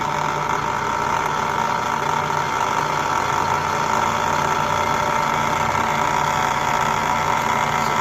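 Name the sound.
DIY wind turbine alternator spinning up to 300 RPM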